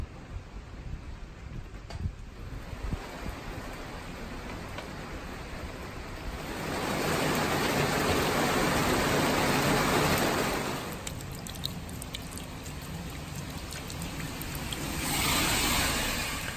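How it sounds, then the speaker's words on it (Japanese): Rain falls outdoors beside a koi pond during water changing, a broad steady hiss that swells heavier in two long surges and eases between them, with a faint high electronic whine throughout. "そうこうしているうちに空がねだんだん怪しくなり雨が降ってきました。"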